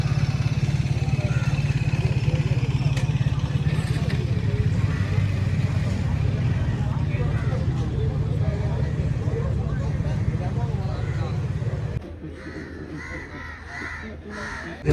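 A low, steady engine drone from a group of 30 to 40 superbikes riding, with occasional bird calls above it before the rumble drops away near the end.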